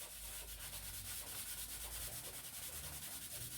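Hand sanitiser being rubbed against painted material to strip the paint, a steady close scrubbing rasp with rhythmic strokes, continuous and fairly quiet.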